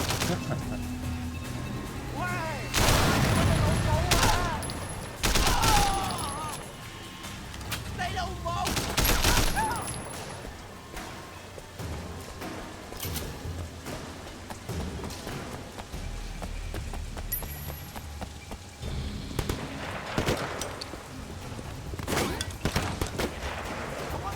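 Gunshots in the Sleeping Dogs video game, including a shotgun, crack in several loud bursts amid a dense, noisy game mix, with someone talking over the action.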